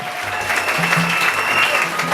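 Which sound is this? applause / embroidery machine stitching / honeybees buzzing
applause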